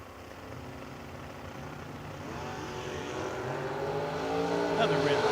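A Camaro drag car at a memorial drag race, its engine droning steadily and building toward a louder roar, with an announcer talking over it.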